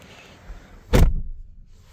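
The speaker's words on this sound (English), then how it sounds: "Solid door thunk." A single solid thunk of a 2025 Lexus LX 700h door shutting, close and loud, followed by quiet.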